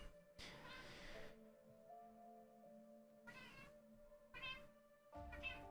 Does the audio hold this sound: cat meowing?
yes